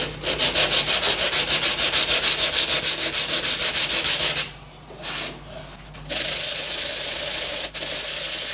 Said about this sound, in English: let's get this excess trimmed off and see how it looks on the mitres.